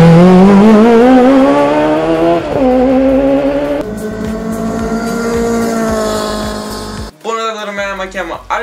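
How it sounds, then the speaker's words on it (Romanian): Dacia-engined Romanian formula car racing in Assetto Corsa, a loud close engine whine rising in pitch through the gears, with shifts and a brief cut near the end, as a voice speaks over it. "În acest videoclip conduc singura mașină de formulă făcută în România."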